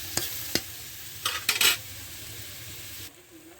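Water poured into a cooking pan during home cooking, a couple of sharp clinks followed by short bursts of splashing and stirring, with a quiet steady simmer or hiss underneath throughout.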